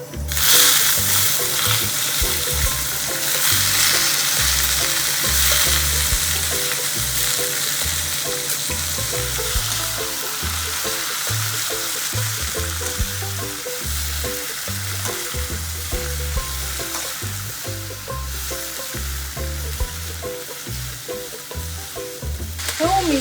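Urad dal crackles and sizzles in hot oil in a pan, a loud, busy frying hiss with dense popping that continues steadily, alone and without talk.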